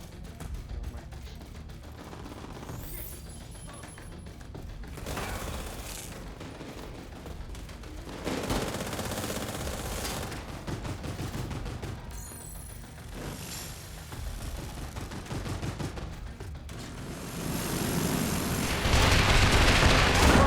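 Heavy autocannon fire and other gunfire in a combat firefight in The Division 2, sustained bursts with booms and mechanical clatter that build to a louder, denser barrage near the end.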